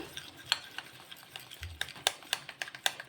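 A spoon stirs flour and oil together in a small bowl, giving soft scraping and quick, irregular clicks against the sides, close and fairly quiet, with no talking.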